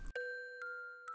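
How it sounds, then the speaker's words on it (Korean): A Christmas bell rings clearly, struck three times in slow succession, each bright tone ringing on and overlapping the next, heard alone in quiet surroundings. "그 순간 종소리가 맑게 울려 퍼졌어요"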